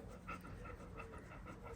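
A large, heavy dog pants steadily in quick rhythmic breaths, close and continuous over a low background hum.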